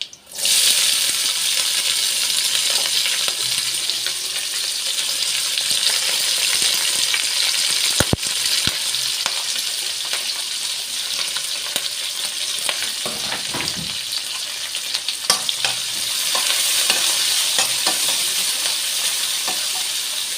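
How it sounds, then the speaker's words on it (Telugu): Green chillies and onions sizzle loudly in hot oil with ridge gourd, a steady close frying hiss that runs throughout, broken by a few sharp clinks of a utensil and no voices. "దీంట్లో పచ్చిమిరకాయలు ఉల్లిపాయలు వేసేస్తాం"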